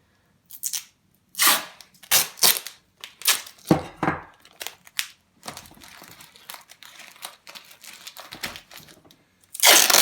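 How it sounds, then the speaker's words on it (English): Electrical tape pulled off the roll and wrapped around the edges of a homemade bean bag, heard as close, sharp bursts of ripping and crinkling with short pauses and a softer stretch of rustling in between. "You can use some of your electrical tape, making sure that all the edges are taped up."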